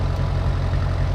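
A Ferguson tractor engine running steadily near at hand, a low, even rumbling idle with no breaks, loud and alone.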